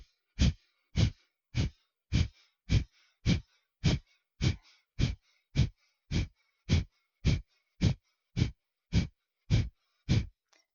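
Rapid forceful exhalations through both nostrils during a hatha yoga breathing exercise, about twenty sharp puffs in an even quick rhythm, close and clear with near silence between them.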